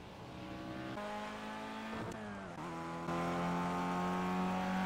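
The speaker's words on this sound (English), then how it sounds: "I'll be driving the new Audi R8 Quattro" Audi R8 Quattro engine droning steadily on a racetrack lap, a sustained tonal roar with shifting pitch, briefly dropping mid-way as if changing gear, then rising louder toward the end.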